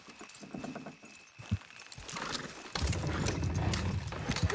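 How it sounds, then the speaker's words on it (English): Horses clip-clop and strain as they pull a load in the video game Red Dead Redemption 2, with hoofbeats, creaking mechanisms and rattling growing busier toward the end. "Horses will pull it clean down."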